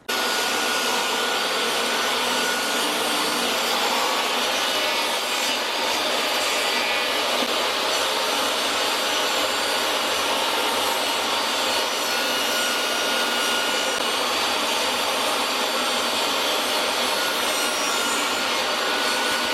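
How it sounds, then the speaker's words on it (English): Power saw cutting 11-inch cedar boards into short pieces while building a garden bed, a steady loud whining roar running continuously throughout with no talk. "We're gonna now cut each of these 11-inch boards into 4"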